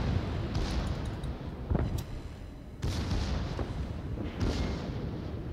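Torpedo hits and heavy explosions against the battleship Mutsu in a naval video game. Dense booming blasts come in a few loud waves over a constant rumble of battle.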